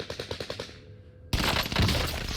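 Gunfire in the video game Rebirth opens with a quick rapid-fire burst of about six shots. After a brief gap, a loud, dense wash of blasts and noise takes over.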